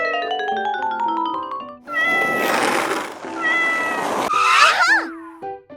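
A cat meows several times in a row, clear and close, with drawn-out rising and falling calls over a quiet background after a short electronic jingle.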